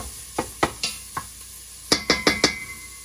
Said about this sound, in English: I'm gonna stir this a little bit